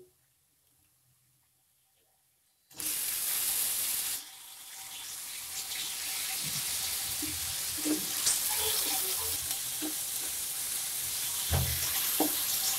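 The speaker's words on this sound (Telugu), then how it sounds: "ఇలా కలుపుకున్న ఉల్లిపాయ ముక్కల్లో మనం ఇందాక కట్ చేసి పెట్టుకున్న వంకాయ ముక్కలను వేసుకోవాలి" Brinjal pieces tipped onto onions frying in a pan set off a sudden loud sizzle after a near-silent start. The hiss stays strong and steady, with soft stirring knocks underneath.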